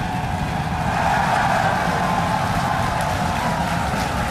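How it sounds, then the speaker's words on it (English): A SpaceX Starship rocket lifts off with a loud, dense, continuous roar, deep rumbling and crackling without letup for several seconds. "We have liftoff."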